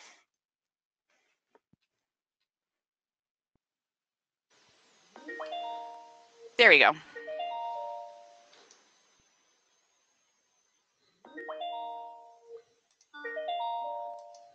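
A Skype incoming call chime plays as a repeating melodic ring in short clean phrases separated by silence, with a brief voice and a click between rings.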